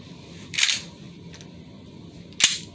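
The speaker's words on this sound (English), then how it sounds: "And let's get to the reloading, shall we? I'm gonna do the pistol first" Toy pistol being reloaded, two sharp plastic clicks or snaps about two seconds apart over a low steady background hum, with no talking.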